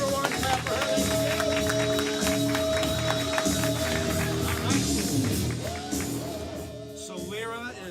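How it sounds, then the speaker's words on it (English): Audience at a live entertainment event clapping and cheering over loud music, steady broadband applause and crowd noise throughout, easing slightly toward the end. "Clap for her, everyone. Clap for her."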